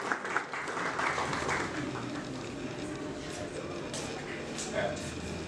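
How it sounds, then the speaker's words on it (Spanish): An audience at a talk on Andean choreography applauds a speaker, a steady wash of clapping that fills the moment at moderate distance, with voices mixed in. "Por favor, un fuerte aplauso para Oliver."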